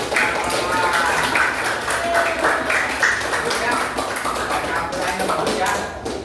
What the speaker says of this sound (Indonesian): Ya, kasih tepuk tangan buat